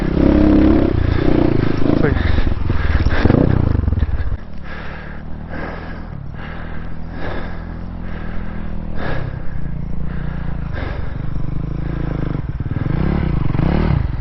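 A dirt bike engine revs and labors on a single-track trail in Hobble Creek Canyon, loud and close with gear-change dips, clattering and scraping, under intermittent talk.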